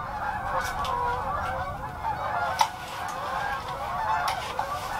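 A flock of geese keeps up a constant distant chorus of honking over a frozen lake where someone is ice fishing in bitter cold, with a few sharper calls rising briefly above the steady clamor.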